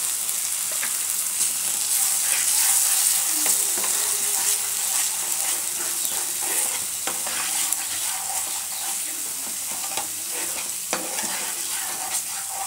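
Masala sautés in a pan with cashews, raisins, poppy seeds and melon seeds for a village-style kaliya, giving a steady, close sizzle with frequent scraping stir clicks throughout and no talking.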